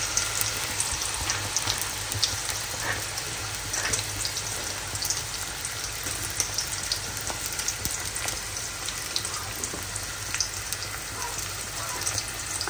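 Ginger-garlic paste frying with onions in spiced oil in a home kitchen pan makes a continuous, moderately quiet sizzle and crackle that holds steady throughout.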